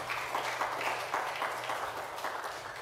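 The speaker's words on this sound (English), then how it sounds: "A round of applause for all those messages." A modest indoor crowd at a city climate action plan launch applauds with steady, fairly quiet clapping throughout.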